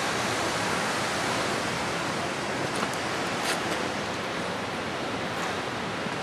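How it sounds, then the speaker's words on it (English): A constant rushing roar of falling water from a waterfall on the Half Dome hike fills the whole clip, broad and steady, with no talking over it. "Coming up on this waterfall."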